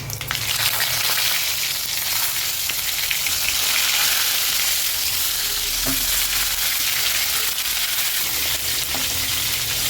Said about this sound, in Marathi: ही वांगी तेलामध्ये छान परतून घ्यायची आपण